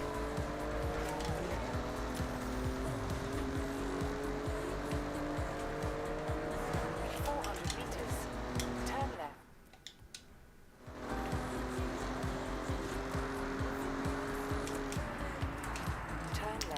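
A car is driven in the racing game Forza Horizon 6, set in Japan, with a steady engine drone, shifting tones and tire squeal throughout. The sound cuts out for about two seconds midway, then resumes.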